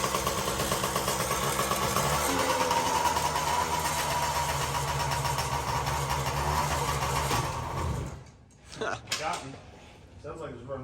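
A Yamaha BW80 motorcycle found in a barn runs with a steady, buzzing small-engine drone for several seconds, then sputters, dies and coughs back briefly as it runs out of fuel.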